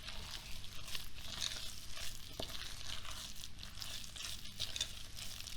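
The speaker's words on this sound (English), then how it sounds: "I'm going to mix it around a little bit." Fluffy fermented uttapam batter being stirred and mixed in a bowl, giving a soft, continuous wet crinkling and squelching close by, with no voices.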